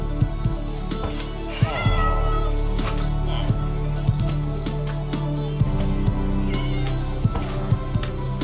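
Minecraft cats meow repeatedly in short, clear calls over a steady background hum and soft game sounds, fairly close and loud.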